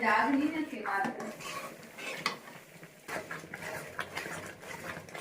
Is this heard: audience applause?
no